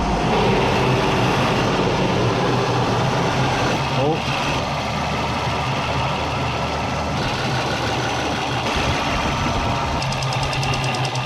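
A BMW 760Li engine runs with two vacuum lines disconnected, giving a continuous loud mechanical drone with a steady low rumble throughout.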